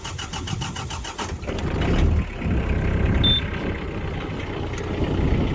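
A used Mitsubishi MT251 mini tractor engine cranks with a rapid starter whir, catches, then settles into a loud, steady close-up idle that runs on alone.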